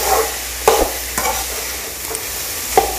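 Beetroot poriyal with grated coconut is stirred in a hot pan over high heat, with a soft continuous sizzle and a few distinct spoon scrapes against the pan.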